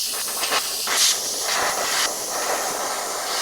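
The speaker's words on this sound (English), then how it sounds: "Now you can see I'm angling that airbrush in order to control my overspray" An airbrush sprays thin paint in a camouflage pattern, producing a continuous airy hiss with short bursts and swells as the trigger is worked, close and fairly loud.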